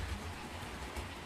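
Model railway locomotive with its train rushing past at a scale 70 mph, a steady rolling rumble with faint rhythmic wheel clicks, close and fairly quiet, with no voices.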